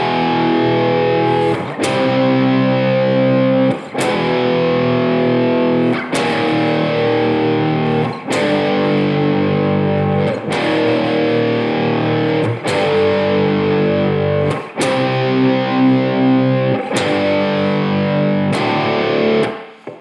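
Loud distorted electric guitar plays the chord progression of a rock song, with strummed chords changing every two seconds or so in a steady rhythm, alone with no voices.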